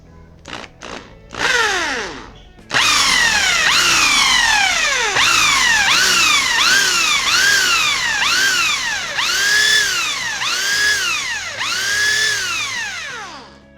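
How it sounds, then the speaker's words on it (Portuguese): A loud power drill whines close by, its pitch repeatedly surging and dropping in rhythmic bursts as it bites into steel, after a few short starts. "esse primeiro aqui, ó, uma furadeira"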